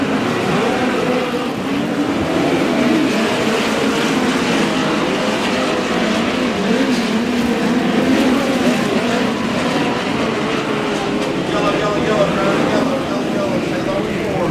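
Midget race cars roar around the Humboldt Speedway dirt track in a POWRi West Midget League race, a loud, continuous engine drone filling the whole stretch, with an announcer talking over it.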